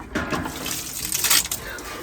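Water splashes and pours out of a chicken waterer in a compost chicken run, a short burst of sloshing and trickling close by, with a person's voice faintly mixed in.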